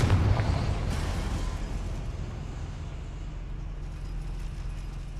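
Confringo, a fiery blasting spell in Hogwarts Legacy, goes off in a loud burst at the start, then a deep rumbling roar fades slowly under a low sustained drone.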